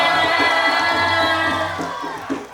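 A lively crowd at a social services jamboree in Kuala Kapuas, Indonesia, cheers and shouts continuously for a stage performer, with whoops rising over a steady roar of voices and a faint low hum underneath.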